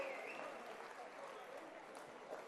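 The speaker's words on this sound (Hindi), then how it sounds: "एक बार जोरदार तालियां हो जाए सैंडी ग्रुप के लिए" A crowd applauds a group's Mahesh Vandana performance at a talent show grand finale, a faint, even wash of clapping heard at a distance without a break.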